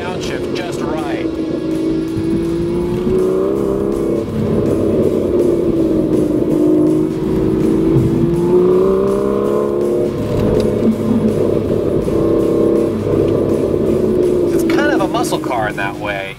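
A 2013 Aston Martin V12 Vantage driven on canyon roads, its engine droning and rising and falling as it revs through downshifts. Someone talks over the engine for most of the stretch.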